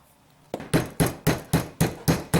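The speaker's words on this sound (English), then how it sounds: "you want to hammer it, put it in there, and then hammer it again because that way it penetrates into the meat" Seven evenly spaced, loud hammer blows pound meat sprinkled with Adolph's original tenderizer, each strike sharp and close, following a quiet moment with no talking.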